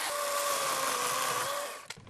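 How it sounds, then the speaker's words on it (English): A chainsaw cutting firewood in a Canadian forest whines at high revs in a steady, buzzing drone, then cuts out near the end with a couple of knocks. "he obviously knows how to use a chainsaw"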